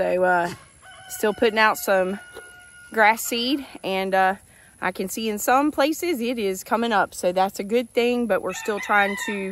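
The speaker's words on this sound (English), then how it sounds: "y'all hear the roosters crowing" Roosters crowing on a hot, humid South Carolina farm with cows and goats, mostly masked beneath someone talking steadily close to the microphone throughout.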